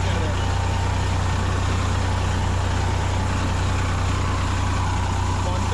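A tractor engine runs steadily on a rural farm field in India, a loud continuous low rumble with broadband noise and no pauses.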